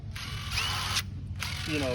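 An impact driver runs freely with no load, its whining motor rising and stopping in two short bursts, loud and close, with a brief voice near the end.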